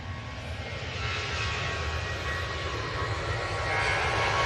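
An Ethiopian Airlines airliner approaching at an airport, a steady jet engine roar with a low rumble and a high whine, growing slightly louder toward the end.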